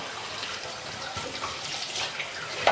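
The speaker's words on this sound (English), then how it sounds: "I'm splurting water everywhere" Tap water runs and splashes steadily while bok choy is rinsed in a kitchen sink. The hiss is continuous and close, with a small splash at the end and no talking.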